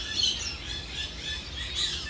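Gouldian and Cuban finches in a bird barn chirp constantly, many thin high calls overlapping into a busy chatter above a low background rumble, with no speech.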